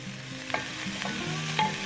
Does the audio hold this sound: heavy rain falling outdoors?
no